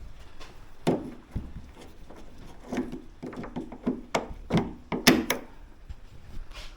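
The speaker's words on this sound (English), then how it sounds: "click the latches" Door latches on a stripped-down VW T5 van door being clicked by hand, heard as a series of sharp, close metallic clicks and knocks spaced irregularly, with some quiet handling noise in between.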